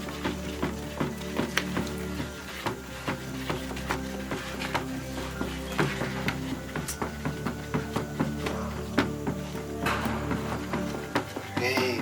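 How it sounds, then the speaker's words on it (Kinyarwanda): Homemade shampoo mixed with water is stirred in a container, producing a steady run of soft, rhythmic taps and swishes at an even pace over a low background hum. "Komeza uvange neza rwose."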